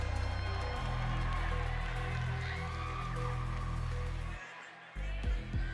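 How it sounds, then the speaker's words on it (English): A large crowd cheers and claps at the Miss Earth 2025 grand finale pageant, a dense, loud, sustained wall of noise that dips briefly near the end before resuming. "now's your chance to make some noise for Thailand"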